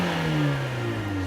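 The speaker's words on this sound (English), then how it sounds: "it also has a much more charismatic exhaust note" Brief throaty exhaust of a 2018 Fiat 124 Spider Abarth turbo, a moderately loud engine note sliding smoothly down in pitch for about a second.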